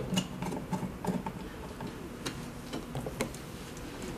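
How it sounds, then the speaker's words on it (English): A screwdriver drives the temperature sensor back into a 3D vacuum heat press, giving a run of small, close, evenly repeating clicks against a quiet mechanical hiss. "Now screw it back using a screwdriver."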